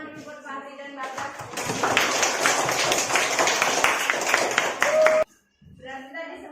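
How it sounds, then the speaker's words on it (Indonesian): A classroom of children claps together for two classmates, a loud rapid burst lasting several seconds that cuts off abruptly, with a teacher and children talking before and after. "Tepuk tangan dulu buat Fahri dan Bagas."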